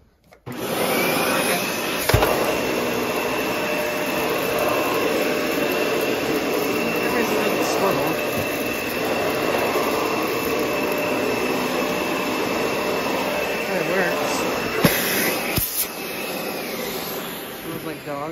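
A Dyson DC-14 vacuum cleaner runs continuously with a loud steady motor whine and airflow roar, with a couple of sharp bumps along the way.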